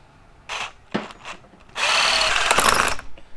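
A few short revving bursts of a power drill, then a longer, steady whirring run of about a second and a half, close and loud, drilling during an LS engine swap into a BMW E36.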